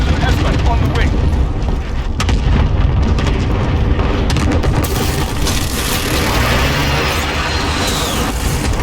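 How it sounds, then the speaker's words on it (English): Precision airstrike explosions in Call of Duty: Modern Warfare hardcore multiplayer roll as dense, loud, continuous rumbling booms with sharp cracks, and speech runs over the din. "Friendly precision airstrike on the way."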